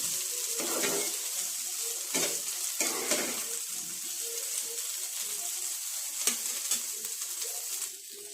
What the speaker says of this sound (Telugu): కాసేపు ఇలా కలుపుకోవాలండి కొంచెం దుంప ఫ్రై అయ్యే వరకు